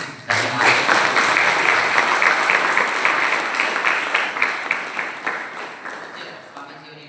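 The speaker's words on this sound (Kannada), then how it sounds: "ಜೋರಾದ ಚಪ್ಪಾಳೆಯೊಂದಿಗೆ" A large crowd at a thanksgiving ceremony honouring a swami breaks into loud, dense applause that begins sharply, holds strong, then tapers to scattered claps, with some talk beneath it.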